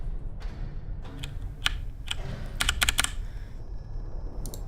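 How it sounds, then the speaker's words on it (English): A very loud mechanical keyboard clacks with irregular keystrokes, some isolated and some in quick clusters, close to the mic over a low background rumble. "I have the world's loudest mechanical keyboard also."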